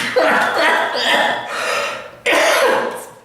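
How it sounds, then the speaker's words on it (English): A single person lets out a combined laugh and cough, a few raspy bursts close by, with a final sharp burst near the end. "That's a laugh and a cough combined."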